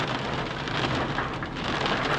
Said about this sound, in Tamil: நல்லா மழை பெய்யுது சூப்பராக.